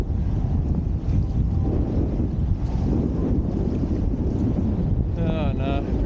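Wind roars steadily across the microphone while wing foiling upwind on a 3.6 wing, a strong but short gust with water noise from the board, loud and continuous throughout, with a brief whistling tone near the end.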